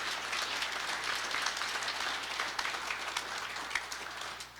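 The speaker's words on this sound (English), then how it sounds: "Let's give them a big round of applause." Audience applause fills a public address by a Kentucky governor, with steady, dense clapping from a crowd, moderately loud and continuing evenly throughout without talk.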